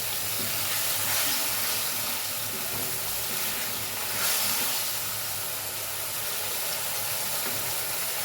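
Masala paste for a Bengali winter mixed-vegetable curry fries in oil in a pan, giving a steady, dense sizzling hiss that swells slightly in places and runs unbroken, with no talking.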